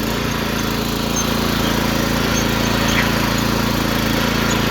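A mini tractor engine runs steadily and loud throughout, its low harmonic drone holding close and continuous as the machine moves up through the gears.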